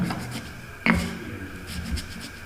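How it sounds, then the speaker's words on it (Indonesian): Ingredients are pounded and ground in a stone mortar (ulekan), giving one sharp close knock followed by soft rubbing and grinding scrapes against the stone. "ulekan seperti ini ya, ini bisa ditumbuk halus ya"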